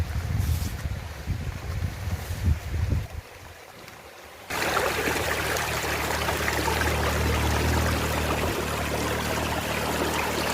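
Water in a Konkan stream flows with a steady, close, hissing rush. It starts suddenly after a few seconds of softer rustling and bumps, then continues evenly to the end.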